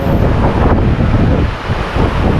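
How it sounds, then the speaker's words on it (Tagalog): Strong wind buffets the microphone in a loud, constant roar, with a rushing wash of heavy rain blending throughout, during the aftermath of Typhoon Tino in Mandaue City, Cebu. "lakas ng ulan tapos mahangin"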